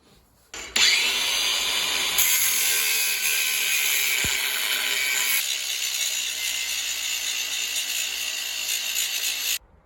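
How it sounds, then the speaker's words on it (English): Angle grinder grinding off the steel tone ring on a Suzuki Jimny rear axle, a loud continuous whine and rasp that starts abruptly, holds steady for about nine seconds, then cuts off, with no talking. "chop this tone ring off and then grind the rest down"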